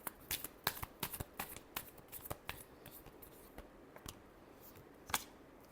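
A deck of tarot cards is shuffled close by, giving a run of sharp riffling snaps and flicks that thin out into scattered taps, with one final crisp snap.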